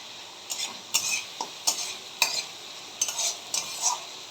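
Soya chunk curry with coriander powder and curry leaves is stirred and sautéed in a pan: repeated spoon scrapes and soft sizzling bursts, roughly one every half second, close and moderately loud, with no voices.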